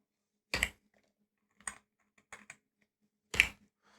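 A few sparse, crisp keystrokes come from a computer keyboard as someone types Python code, with isolated clicks separated by quiet pauses.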